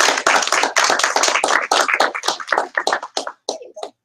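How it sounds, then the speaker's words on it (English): Audience applause at an evening event, a dense burst of clapping from a crowd that thins out and tapers to a few scattered claps by the end. "I love how everybody claps for me."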